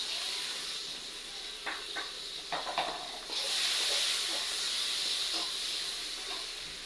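Onions hit hot oil in a pan and hiss steadily, with a few brief clinks of stirring, and the sizzle swells louder partway through before settling into a constant frying hiss.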